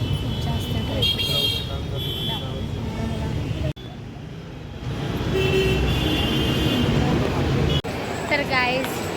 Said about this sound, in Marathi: हे बघा मित्रांनो, खूप जास्त ट्रॅफिक आहे.